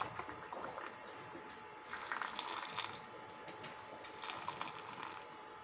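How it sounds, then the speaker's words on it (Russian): Hot vinegar brine poured straight off the boil into glass jars of pickled jalapeños, a steady splashing gush with brighter bursts of filling, fairly quiet and close. "Рассол закипел, выключаем и сразу заливаем в банки."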